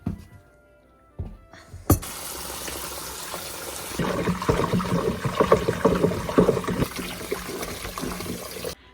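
Water pours into a container for horses, starting after a couple of quiet seconds with a sharp thunk, then a steady splashing, gurgling stream that fills out and continues to the end, fairly close.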